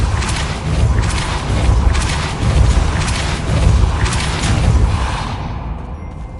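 Depulso spell casts in the wizarding game Hogwarts Legacy, several rolling whooshing booms pulsing about once a second over a dense, steady magical roar that thins out at the close.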